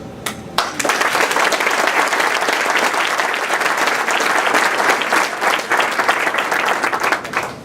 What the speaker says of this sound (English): You all need to please aid me in giving my mother a round of applause.